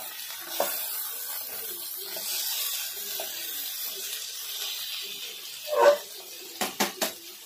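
Tandoori chicken being roasted and flipped inside a pressure cooker over a low gas flame: a soft background sizzle, then a louder metallic clatter and a quick run of three clanks as the pieces are turned.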